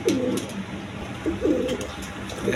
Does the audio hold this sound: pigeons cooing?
yes